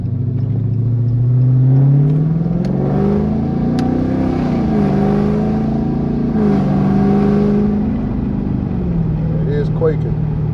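A cammed 5.7-liter 2016 Dodge Challenger R/T with straight pipes revs and accelerates, its deep, lumpy exhaust rising in pitch and then settling, loud and close, with continuous rumble throughout.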